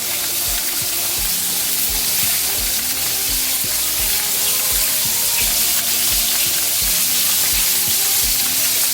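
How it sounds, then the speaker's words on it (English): Onion frying in a pan with black pepper, a loud steady sizzle running throughout, broken by regular low knocks of stirring and faint running water from a tap nearby. "And I will cut my onion into there."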